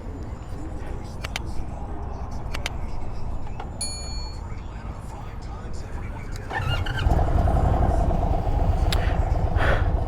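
A 2025 Indian Sport Chief RT touring motorcycle rumbles along under someone talking, with wind noise, and the engine note swells louder and deeper partway through as the ride gets going.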